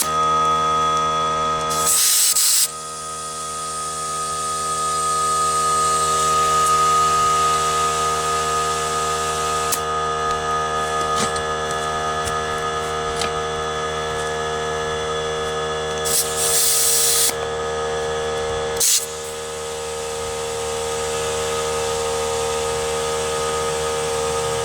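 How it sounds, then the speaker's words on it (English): An air compressor runs steadily while inflating a four-wheeler tire, a continuous loud hiss and hum for the whole stretch, with a few brief louder bursts of air. "the compressor's filling up, so it's taking a little longer"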